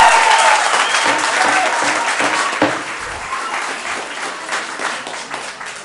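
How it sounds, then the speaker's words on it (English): Applause at a city council meeting, a dense crowd clapping loudly at first and gradually thinning out as it continues. "please hold your applause"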